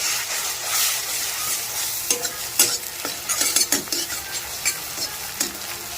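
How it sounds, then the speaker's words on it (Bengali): Eggs fry in hot oil in an unwashed wok, giving a steady close sizzle and crackle with scraping and stirring clatter of a spatula from about two seconds on; no one speaks. "তেল গরম করে নিয়েছি, ডিম দিয়ে দেব। ডিম দেওয়ার পরে ডিমটা যেমন তেমন ভাবেই আমি ভেজে নেব।"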